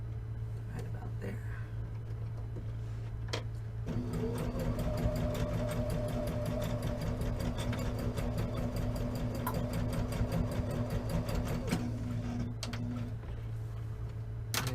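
A sewing machine sews a tote bag with fast rhythmic stitching close by, running steadily for about nine seconds before slowing, with back stitching and a low background hum throughout.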